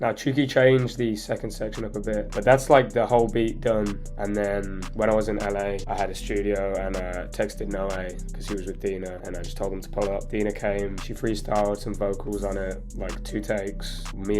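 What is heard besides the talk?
No everyday noise stands out behind the speech.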